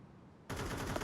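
Gunfire in Counter-Strike bursts in abruptly after a quiet moment, a loud, close, sustained volley of rapid shots.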